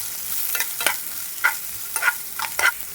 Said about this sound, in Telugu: ముందుగా కట్ చేసి పెట్టుకున్న ఉల్లిపాయ ముక్కలు అయితే వేసుకోవాలి. వీటినైతే కాస్త ఫ్రై అయ్యేంత వరకు ఫ్రై చేసుకోవాలి.